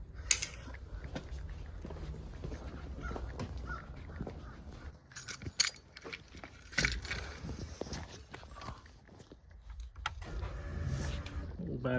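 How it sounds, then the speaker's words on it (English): Power side mirror motor on a Foxbody Mustang project car whirring in short bursts, with mechanical clicks and a faint rattle, close by on a weak battery. "A little loud from the motor."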